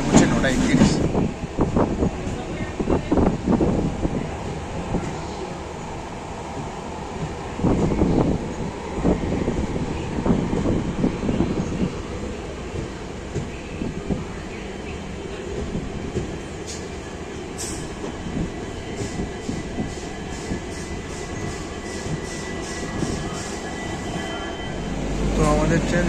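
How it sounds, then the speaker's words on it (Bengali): The 12821 Dhauli Superfast Express, Shalimar to Puri, rolls along the rails toward Santragachi Junction, a continuous rumble and rattle of carriages with periodic wheel clatter, heard from on board with people talking over it. "একদম রাইট টাইমে ছেড়ে দিয়েছে আমাদের ট্রেন"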